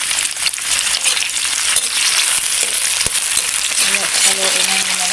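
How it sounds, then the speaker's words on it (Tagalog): Garlic, onion and tomato sauté in a pan, giving a steady broadband sizzle with scattered clinks and scrapes of a utensil stirring, close and continuous throughout. "Haluin na muna natin ito until na mag-golden brown yung ating bawang, sibuyas at kamatis guys."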